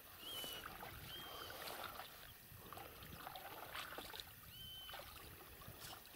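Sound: rowboat approaching on water

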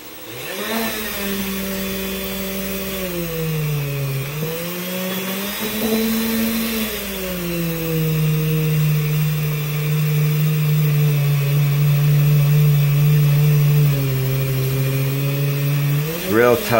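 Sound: buffing wheel with compound polishing vintage Corbin brass

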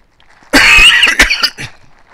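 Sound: coughing

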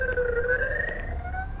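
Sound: ambulance siren

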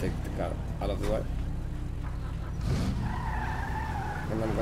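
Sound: car being driven in the video game GTA 5 Online

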